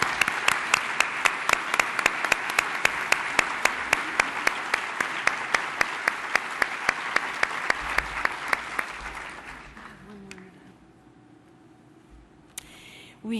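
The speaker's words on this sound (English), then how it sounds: "please stand and be recognized for a great hand of applause." Sustained audience applause at an outgoing president's address, a dense steady wash of many hands clapping for about nine seconds before fading out into near silence.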